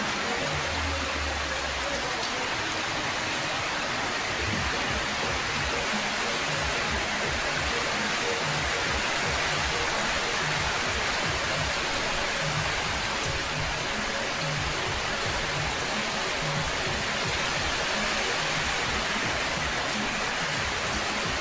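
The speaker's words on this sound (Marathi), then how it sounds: "बापरे किती पाऊस येतोय" Heavy rain pours steadily, a dense hiss with spattering drops on surfaces close by, continuous and loud throughout.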